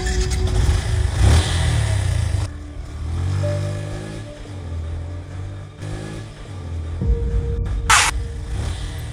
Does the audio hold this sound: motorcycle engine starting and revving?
yes